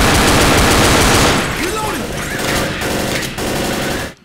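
Rapid gunfire from dual pistols in the co-op zombie shooter Left 4 Dead, a loud dense burst of shots at first, then sparser cracks and game noise trailing off near the end.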